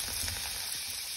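Food sizzling and frying steadily in a pan over fairly low heat, browning to golden, a constant close crackle with no voices.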